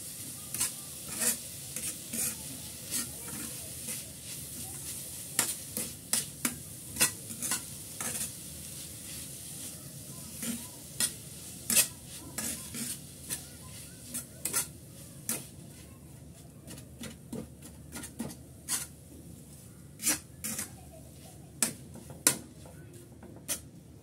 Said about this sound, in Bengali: গুড়টা গলা পর্যন্ত সুন্দর মতো আমি নেড়ে চেড়ে গুড় গলিয়ে নিচ্ছি চুলার